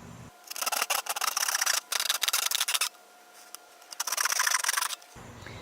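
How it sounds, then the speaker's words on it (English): A handsaw cuts through a plastic bucket in three bursts of quick, rasping back-and-forth strokes, close and loud, separated by brief pauses. "Now we'll use our handsaw to cut out our marking."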